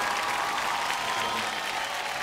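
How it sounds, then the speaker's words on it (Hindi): Loud, dense applause from a large crowd at a Bollywood event honoring Amitabh Bachchan, a continuous roar of clapping that stays steady and full throughout. "एक बार जोरदार तालियां फॉर अमिताभ बच्चन।"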